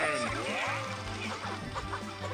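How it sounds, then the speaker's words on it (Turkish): Cartoonish chicken clucking in the mobile video game Squad Busters, a quick run of loud, close clucks over game music, with no talking. "Tavuk güzel."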